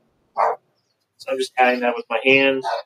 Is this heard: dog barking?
yes